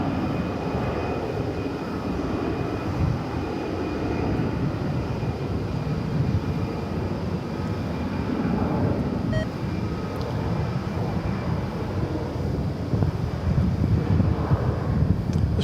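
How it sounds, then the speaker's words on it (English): A Frontier Airlines jet departs DFW Airport at night, a steady broad roar of engine noise with some wind buffeting on the microphone, holding at a constant loud level throughout with no talking. "This Frontier flight is off to Phoenix."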